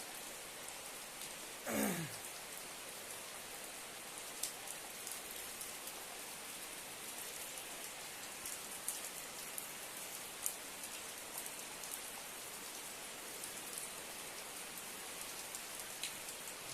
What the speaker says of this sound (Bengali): আপনি যে দেখতে পাচ্ছেন এখানে বৃষ্টি পড়ছে